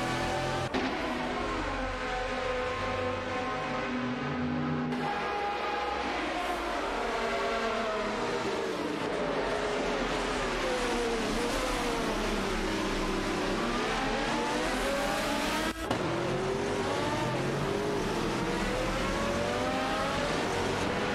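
Race cars battle closely through a chicane in a racing video game, engines revving and shifting with rising and falling whines, sustained and loud, with another car sweeping past near the end.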